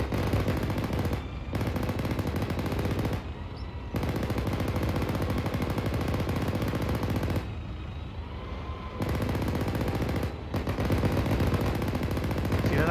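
Joystick-controlled machine gun in a Marine training exercise fires long raking bursts: rapid continuous rattling volleys lasting a few seconds each, separated by short pauses, loud and close, with no voices over them.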